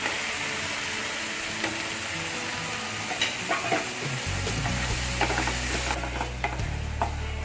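Yellow paste blended in a mixer fries and sizzles in a mushroom and baby corn gravy while a spoon stirs it, a steady close crackle with scraping strokes and a low hum joining partway through.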